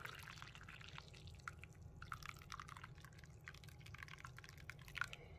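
Brewed coffee dripping through a silicone pour-over coffee maker, a quiet steady trickle with faint irregular drips and a hiss of liquid, heard alone without talk.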